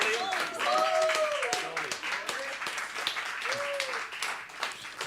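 Audience applause greets a jazz band taking the stage at the Berklee Global Jazz Institute, a dense wash of clapping with a few tonal whoops or voices rising over it, steady and fairly close for the whole stretch.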